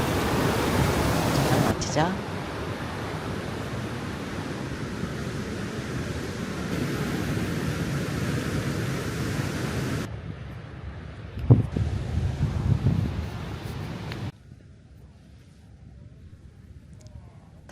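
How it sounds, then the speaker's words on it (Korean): Ocean waves wash onto the sand at Deoksan beach in Samcheok, a broad roaring surge mixed with gusty wind buffeting the microphone. Someone speaks briefly over it, and the surge drops off sharply near the end. "파도 소리 들어보세요."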